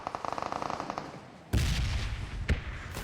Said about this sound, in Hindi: कुछ उनकी साइड से फायर का साउंड आ रहा था